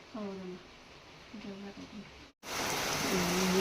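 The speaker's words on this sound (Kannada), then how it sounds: "ಮಳೆ ಜೋರು ಬರತ್ತೈತಿ" Heavy rain falls in the evening. Voices talk briefly at first, then a loud, steady downpour roars in abruptly and holds, close and continuous.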